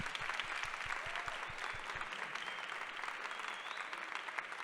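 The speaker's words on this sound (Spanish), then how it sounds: "Démosle un aplauso a Bruno entonces por esta maravillosa charla." An audience applauds after an architecture talk on visual communication, with steady, fairly quiet clapping throughout and a few low thumps early on.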